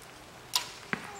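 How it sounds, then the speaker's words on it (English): An arrow released from a bow at an archery target during a pro shoot-down competition: a sharp release snap followed by a quick thud of impact about a third of a second later, moderately loud over quiet outdoor background. "Notice he actually draws his bow back before he shoots."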